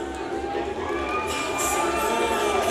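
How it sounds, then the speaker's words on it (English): A crowd at the Rise of Champions 3 MMA event cheers as fighter Ernesta Bukauskaite makes her entrance: a sustained, loud roar of voices and shouts that swells toward the end. "the crowd really loving this one"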